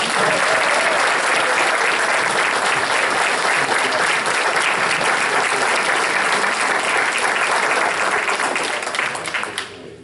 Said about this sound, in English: I really think it is a great favor if we could give her one great applause.